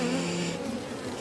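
Bees buzz at an open beehive during an inspection with frames of brood exposed and rain approaching, a dense, steady close-up drone with no talking.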